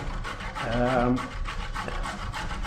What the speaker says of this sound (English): Next thing we want to do is the carrot, and then I'm just going to grate this carrot down.